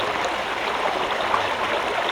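A small brook in the highlands flows without pause, giving a steady, close rush and babble of water with even loudness throughout and no voices.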